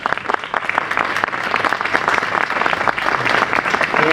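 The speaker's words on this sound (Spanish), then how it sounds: "Un fuerte aplauso, por favor." A crowd at a road-safety event against traffic violence claps in sustained, dense applause, steady and fairly loud for the whole stretch with no voices above it.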